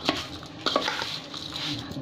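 Fried flattened rice with fried peas and onion is stirred in a pan. A spatula gives quick, light scrapes and clinks against the metal over a soft frying hiss.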